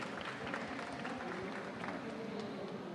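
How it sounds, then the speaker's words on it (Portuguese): Audience at a Campus Party Brasil conference session breaks into steady, moderately distant applause, a continuous patter of clapping with murmuring crowd underneath. "Uma salva de palmas aí pro Daniel do BBB."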